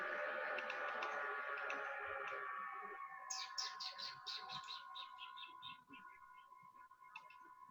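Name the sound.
strange birds chirping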